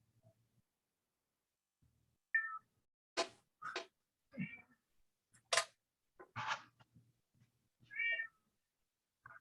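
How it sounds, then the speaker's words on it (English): A house cat meows and howls in a run of separate calls, some short and sharp, others drawn out and wavering, with quiet pauses between them and no talking. "Oh, I can hear your cat."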